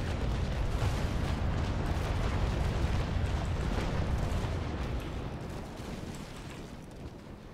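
Naval Action ship cannons fire in a continuous heavy barrage of deep booms and rumbling blasts, loud and close, tapering off slightly toward the end.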